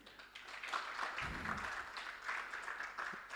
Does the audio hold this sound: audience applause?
yes